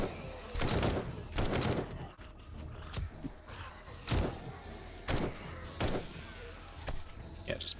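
Gunshots at zombies in the video game 7 Days to Die: a series of spaced, sharp, punchy shots, some in quick pairs, with faint background sounds between them.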